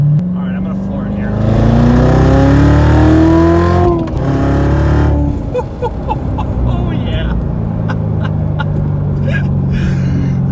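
A Chevrolet Corvette Z06 engine pulls hard at full throttle, its loud rising roar sweeping upward in pitch as the car accelerates, then settling into a steady drone with road noise.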